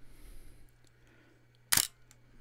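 A 35mm film SLR camera's shutter fires once with a single sharp, close mechanical click against a quiet background.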